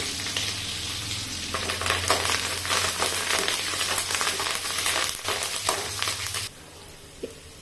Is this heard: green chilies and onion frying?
yes